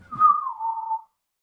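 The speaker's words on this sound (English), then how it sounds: "Are you whistling innocently?" A single short whistle from one person, a sustained tone gliding slightly downward for about a second, clear and close, then silence.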